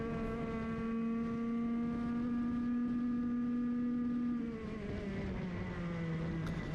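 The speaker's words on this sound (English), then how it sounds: "You can hear that Rotax engine kicking in just before that curb." A Rotax kart engine screams at steady high revs during a Masters heat race in Victoria, close and loud, then its pitch drops and wavers as it backs off near the end.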